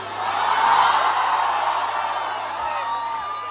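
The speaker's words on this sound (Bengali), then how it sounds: "তো রাজাকে রাখার জন্য একটা জোরে হাততালি হয়ে যাক" Concert crowd at a live event in Barrackpore cheering and clapping, a sustained roar that swells early and slowly eases while staying loud throughout.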